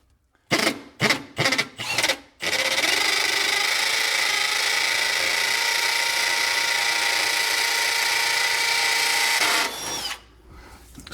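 A power drill fitted with a Tapcon bit bores into a concrete garage wall: several short bursts first, then a long continuous whining drill run of about seven seconds that cuts off abruptly, close and loud.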